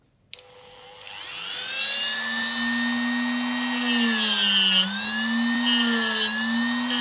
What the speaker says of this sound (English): So what you need to do is you need to get your trusty Dremel. Might be a bit of noise here.